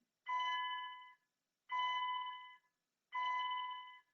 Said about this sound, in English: sorry, stinking bell at school.